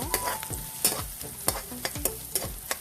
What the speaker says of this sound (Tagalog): igisa muna natin ito